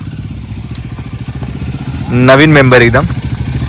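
A new Royal Enfield Guerrilla motorcycle runs close by with a steady, low, throbbing engine note. Someone talks loudly over it partway through.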